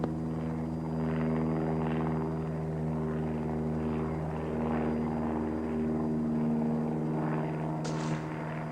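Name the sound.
helicopter flying during bear darting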